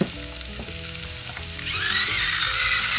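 NY strip steaks frying in oil on a 22-inch Blackstone griddle, a constant close sizzle that swells louder and brighter midway as more oil hits the hot surface, with a faint tonal hum underneath.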